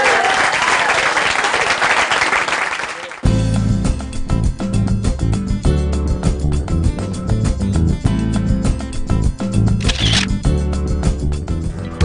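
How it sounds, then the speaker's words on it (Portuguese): Loud studio audience applause on a Brazilian educational TV show breaks out suddenly after a few seconds of other sound, then continues as dense, sustained clapping to the end. "ótima salva de palmas"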